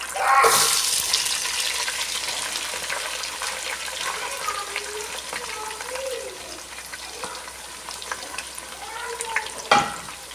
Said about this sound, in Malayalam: അടുത്തത് ബിരിയാണിൻ്റെ മസാലയ്ക്ക് ആവശ്യമായിട്ടുള്ള സവാള ഫ്രൈ ചെയ്തെടുക്കുകയാണ്